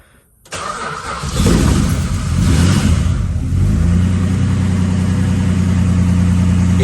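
A Valiant VJ Charger engine cranks and catches after a short pause, revs up loudly, then settles into a steady, throaty idle, close by with no talking.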